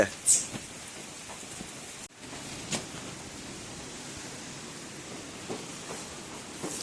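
Steady rain falls in a constant wash of hiss, with a few sharper drips and knocks standing out here and there.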